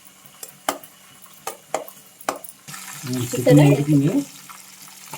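Chicken with masala for dum biryani sizzles in a pan, preceded by a few sharp clinks of a utensil, then a louder burst of frying and stirring; a voice speaks over it.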